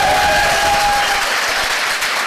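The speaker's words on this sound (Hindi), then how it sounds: "ताली वाली बजा के बताइए" Audience in a hall breaking into loud, dense applause that stays steady, with a brief tonal whistle early on.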